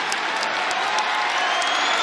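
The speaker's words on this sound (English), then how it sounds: "It's a tremendous crowd inside Reynolds Coliseum, trying to urge Jack on" A large crowd at a college wrestling match in Reynolds Coliseum claps and cheers continuously, loud and dense throughout the short stretch.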